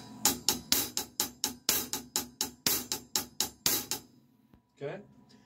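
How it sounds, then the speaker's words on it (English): A drum hi-hat pattern played alone in a drum lesson: about a dozen sharp, evenly spaced hits at a steady tempo, close and fairly loud, then a brief voice at the end. "The pattern becomes this, just the hi-hat pattern."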